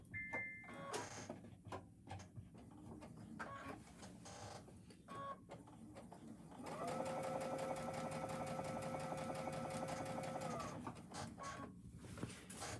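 A sewing machine runs in one steady burst of about four seconds, basting an apron fabric seam a scant 1/8 inch from the edge. Quieter handling sounds come before and after it.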